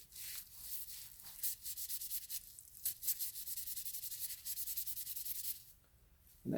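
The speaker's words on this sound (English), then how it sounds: "I'll start rubbing the label until I get the majority of it off" Abrasive pad rubbing a label off a carbon arrow shaft, a quick run of short, scratchy back-and-forth strokes close up, steady and rhythmic with a brief pause near the end.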